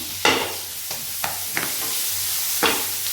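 Onion and tomato sautéing in a pan, a steady close sizzle broken by several sharp stirring scrapes at irregular intervals.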